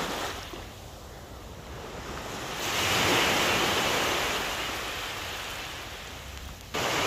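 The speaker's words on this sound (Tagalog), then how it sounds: "Magandang pakinggan ang mga alon guys." Sea waves wash steadily beneath a walking bridge over the sea at night, a soft broadband rush that swells and recedes, with wind mixed in and no voices.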